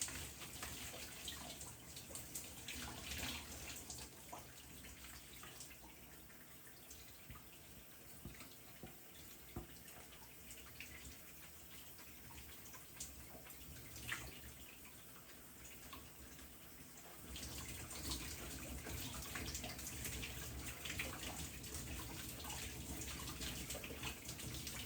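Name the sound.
water rinsing shampoo out of hair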